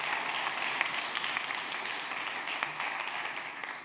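Audience applause for two panel speakers at a circular economy festival, a steady wash of many hands clapping throughout, fairly distant and even in level.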